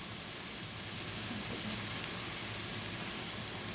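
Second-press coconut milk pours into a pan of sizzling ginataang labong (bamboo shoots), making a steady hissing sizzle that holds evenly at moderate volume, close by.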